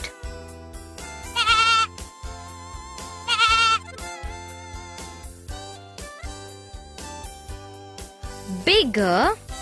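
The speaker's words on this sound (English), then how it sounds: "goat" A goat bleats in several short, wavering bursts, two early and one louder near the end, over continuous background music.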